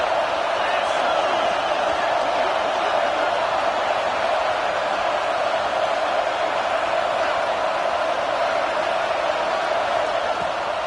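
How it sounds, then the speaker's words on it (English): Steady roar of a stadium crowd in an NCAA football video game with Oregon, a dense continuous wash of cheering noise at constant loudness with no breaks. "This crowd bringing the energy and noise early."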